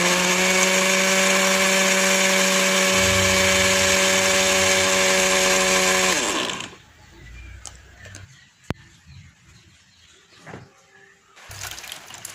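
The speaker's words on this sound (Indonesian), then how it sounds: "Setelah itu, blender ubinya ini sampai halus." A kitchen blender purées steamed yellow sweet potato with water, a loud steady motor whine lasting about six seconds before winding down, followed by quieter clatter and handling noises.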